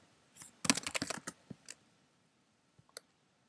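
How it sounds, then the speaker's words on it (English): Fingers type a password on a Mac computer keyboard in a quick burst of close, crisp key clicks, followed by a few isolated taps after a pause. "Just type my password."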